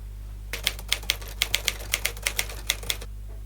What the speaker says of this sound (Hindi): When you reach the end of the line, that's what your carriage return lever is for. You simply push that to the left